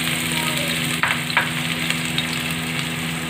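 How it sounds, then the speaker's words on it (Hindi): Onions fry in a pan for spicy kadhi pakoda, giving a steady, close sizzle with a few brief spoon knocks and scrapes in the middle. "अब मैं इसमें प्याज ऐड करूंगी"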